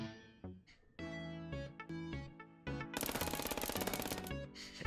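Gunfire in the video game FPS Chess, with a rapid, loud burst of automatic shots in the second half that rises over game music.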